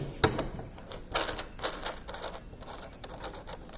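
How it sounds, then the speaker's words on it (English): Bolts being loosened and removed from the intake tray of a Polychute system, heard as a series of sharp metallic clicks and rattles in irregular bursts, fairly close, with no talking. "So bolts will be removed from here."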